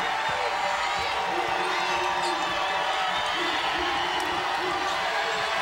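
Basketball arena crowd of New Mexico Lobo fans cheering and buzzing at a game against Boise State, a dense roar with scattered whoops, under a play-by-play announcer's voice.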